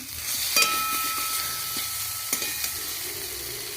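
Food frying in a pan over a coal-fired clay stove gives off a continuous close sizzle, broken by a few brief knocks and scrapes of stirring.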